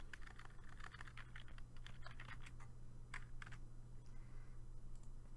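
Rapid bursts of typing on a computer keyboard, soft clustered key clicks entering a drug name into pharmacy software, fairly quiet with short pauses between runs.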